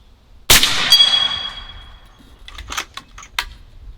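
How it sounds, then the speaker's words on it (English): A Bintac MCAR 7000 PSI air rifle shot strikes a steel dueling tree with one sharp metallic clang that rings and decays, followed by a few fainter rattling clanks as the steel paddles swing. "The thwack, and it just sends that steel flapping around like crazy."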